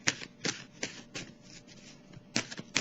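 Oracle cards being shuffled for a tarot reading, producing a series of soft, crisp riffling bursts at an irregular rhythm, close and fairly quiet with no talking.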